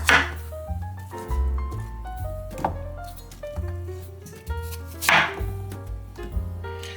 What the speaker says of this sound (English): I'm going to start by just cutting around the core.